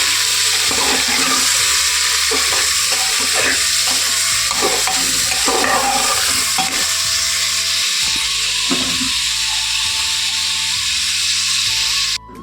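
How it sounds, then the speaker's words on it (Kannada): Mutton frying with golden masala in hot oil makes a loud, continuous sizzle with bursts of stirring and scraping, close up and without any voices. "ಮಟನ್ ಹಾಕ್ಕೊಂಡು ಚೆನ್ನಾಗಿ ಫ್ರೈ ಮಾಡ್ಕೊಳ್ಳೋಣ ಇವಾಗ"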